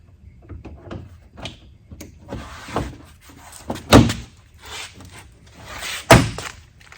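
A Ford Bronco fender fitted with an IAG mud flap is snapped back into place, giving a series of plastic knocks and clicks with two sharp, loud thunks, close up.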